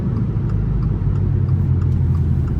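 A Subaru WRX pulling away, its engine a steady mid-pitched rumble close by, droning continuously without a clear rise in revs.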